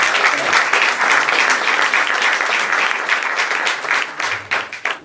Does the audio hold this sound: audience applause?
yes